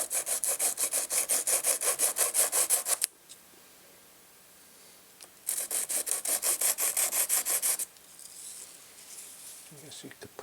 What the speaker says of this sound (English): I take a little piece of sandpaper and scuff them down